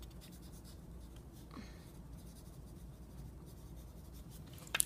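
A pencil writes a name on a sheet of paper, a quiet continuous scratching that runs for several seconds and ends in a small sharp tap, with no voices.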